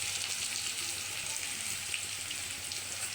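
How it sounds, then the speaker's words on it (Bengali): Onions frying in oil in a pan for egg curry, a steady, even sizzle with soft crackling that holds constant for the whole stretch, fairly quiet and close, with no talking. "ডিমের কারির জন্য দেখো পেঁয়াজগুলো ভালো করে ভেজে নেব"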